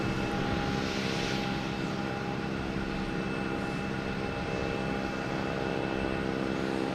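An airliner coming in to land at Boston Logan Airport drones steadily, a loud sustained engine whine with tonal hums over broadband rush, continuous with no voices.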